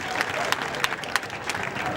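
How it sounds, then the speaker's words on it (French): A crowd claps at a political rally for a legislative election campaign in M'Bengué, Côte d'Ivoire. The applause is dense and close, with a few sharper claps standing out and voices mixed in. "je voudrais qu'on acclame très fort"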